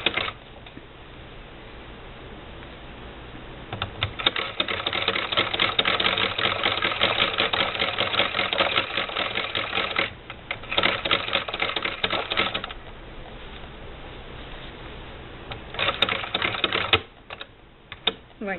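A Singer Model 20 SewHandy toy sewing machine stitches in steady rapid mechanical bursts, running for several seconds at a time, pausing briefly, then starting again, fairly close and with no talking.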